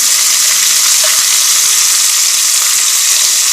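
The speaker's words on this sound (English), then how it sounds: "Add the onions. Put 8 ounces of onion." Onions, eight ounces of them, sautéing in a hot pan for chicken paprikash, with a steady, close, broadband sizzle and hiss that runs evenly throughout and no voices.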